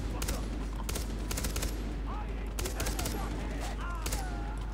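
SMG fire in Far Cry 3 crackles in repeated short bursts, loud and close, over a steady low rumble, with a voice chattering faintly underneath.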